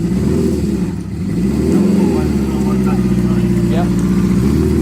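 A 1973 Honda CB500 motorcycle engine revs close by in a loud, throaty, low rumble that swells and settles over several seconds, with people talking faintly underneath.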